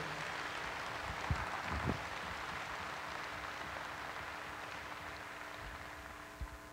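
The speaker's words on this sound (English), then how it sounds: "give the breeders and exhibitors of these great, great cows a big round of applause." An audience at the World Dairy Expo Holstein show applauds breeders and exhibitors, a diffuse, fairly soft patter of many hands that holds steady throughout with a few louder claps standing out.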